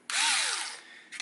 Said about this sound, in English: then I use my Hitachi driver